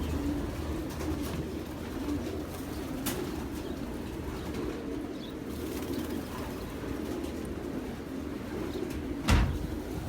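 Racing pigeons at the loft give a soft, low continuous cooing, with a few brief wing flaps and a short thump near the end.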